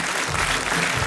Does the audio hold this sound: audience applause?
yes